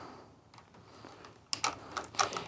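A wire cutter snips electrical wire to make a pigtail inside a single gang electrical box, giving a few sharp, close clicks after a quiet stretch of faint handling noise.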